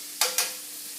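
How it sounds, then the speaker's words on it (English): Onions, garlic and ginger sizzle in hot oil in a pan for shrimp teriyaki, with two quick bursts of loud crackling close together, then a steady softer hiss. "So I just want to get the onions a little bit translucent."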